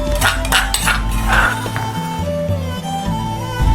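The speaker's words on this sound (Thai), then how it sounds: "พอทุกอย่างเข้ากันแล้วก็ตักใส่จานแล้วพักไว้นะครับ" Pounded Thai chicken salad (yam jin gai) being scooped onto a plate, heard as close, bright clinks and scrapes of a utensil against dishware in quick, irregular succession, with no talking.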